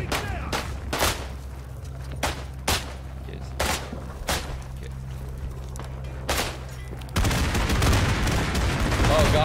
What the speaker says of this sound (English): Getting lit up by a MG right now.